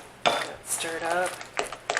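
Fried onion dip being stirred in a bowl, with a few clinking scrapes of a utensil against the dish, close and moderately loud, with brief sustained tones between strokes.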